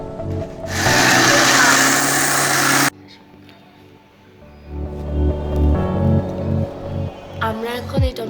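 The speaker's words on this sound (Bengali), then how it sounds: "আমরা এখন টমেটোগুলোকে ব্লেন্ড করে নিব।" An electric blender pureeing boiled tomatoes roars loudly for about two seconds, then cuts off abruptly, followed by a voice speaking over low background music.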